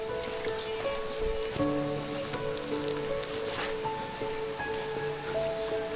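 Clear water rushing steadily down a forest stream on a Kudremukh trek, a constant close wash of flow with faint thin tonal chirps above it and no talking.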